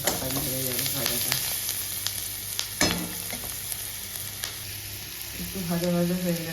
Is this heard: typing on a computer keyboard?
no